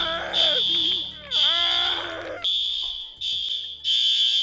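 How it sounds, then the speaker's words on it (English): A shrill fire alarm beeps in repeated bursts, loud and piercing, while a person talks over the first part. "fire alarm went off."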